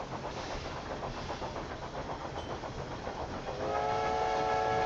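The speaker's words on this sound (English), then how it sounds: "Is the train having a breakdown or is it moving very slow?" Train rolling along in the Railway Empire 2 game, a steady loud rumble and rattle that continues throughout, joined near the end by a sustained whistle-like horn tone.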